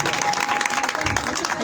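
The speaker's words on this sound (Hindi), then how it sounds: "एक बार और जोरदार तालियां खुदा के कलाम के लिए" A congregation claps steadily at a sermon in Gojra, a dense sustained wash of applause with voices faintly mixed in.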